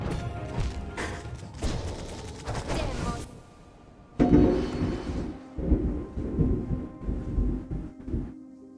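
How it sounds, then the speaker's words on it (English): In Hollow Knight, stormy thunder rumbles and crashes in deep, rolling bursts, some sharp and loud, separated by a brief lull before more heavy booms follow. "that you're hearing in the background was thunder. There is a storm here."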